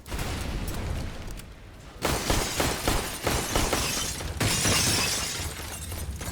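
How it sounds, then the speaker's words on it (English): Glass skylights shatter on the Nuke map in Counter-Strike, loud crashing bursts of breaking glass mixed with gunfire, one after another across a few seconds. "they're going to break all the skylights"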